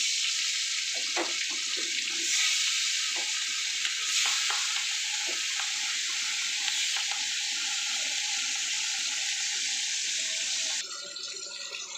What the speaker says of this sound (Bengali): এদিকে তেলটা গরম হয়ে গেছে, দেখুন মাছটা ছেড়ে দিলাম।